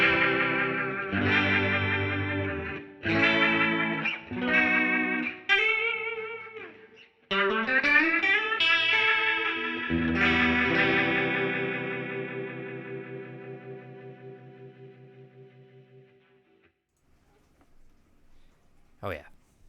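An electric guitar played through a rotary speaker effect on a Line 6 HX Stomp, chords and single notes swirling with a wobbling, modulated tone, then ringing out and fading to near silence.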